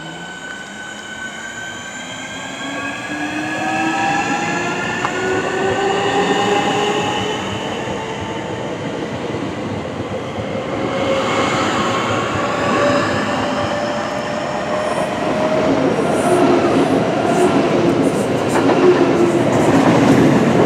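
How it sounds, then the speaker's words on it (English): A Thameslink train rolls into a station, its motors whining in rising and falling tones over a steady rumble of wheels on rails, growing slightly louder and ending with faint brake squeals, close and continuous. "there's a Thameslink service coming in now"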